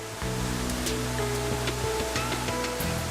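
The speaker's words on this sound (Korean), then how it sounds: "암벽 사이로 움푹 패인 협곡에서 길게 폭포수가 떨어집니다." Bidulginang waterfall on the Hantan River pours a long stream of water into a basalt gorge with a steady, dense rushing roar that continues evenly throughout, with no speech.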